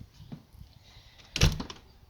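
A back door of a house thuds shut with a brief rattle partway through, following some faint shuffling and handling sounds in a quiet room.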